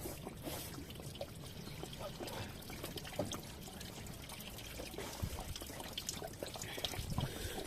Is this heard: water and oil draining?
yes